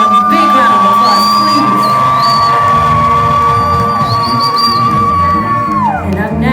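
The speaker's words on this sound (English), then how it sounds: "Everyone, big round of applause" Concert crowd at The Masquerade in Atlanta cheering and whooping for the bassist, loud and continuous, while a sustained piercing whistle-like tone rides over the noise and drops away near the end.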